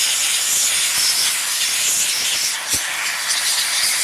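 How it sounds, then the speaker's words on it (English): Compressed air hisses steadily and loudly out of an old NASCAR Busch Series carburetor being cleaned, a continuous close blast lasting the whole moment with only slight shifts in force. "we're going to air everything out, make sure there's nothing plugging anything up, and make sure there's no dust here in the carburetor itself"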